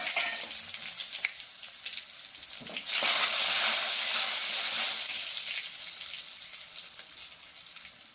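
Curry leaves tossed into hot oil already holding garlic and fennel seeds for an eggplant kadaiyal: a steady close frying sizzle that bursts into a loud, hissing crackle a few seconds in, then slowly settles.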